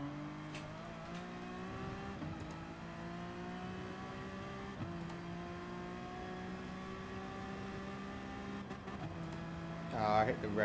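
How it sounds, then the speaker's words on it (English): Race car engine in GT Sport, an FIA Manufacturer Series race, droning at high revs with repeated upshifts and rising pitch, bumping the rev limiter near the end, fairly quiet and steady. "Ah, I hit the rev limiter."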